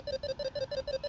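A rapid, repeating electronic warble from a dog training e-collar on continuous stimulation pulses steadily, several even beeps in quick succession at moderate volume.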